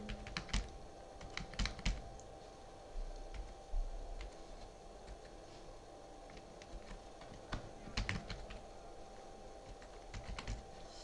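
Keys tapped on a computer keyboard at a quiet desk, an email address being entered in short, irregular bursts of close, crisp clicks with brief pauses, no talking.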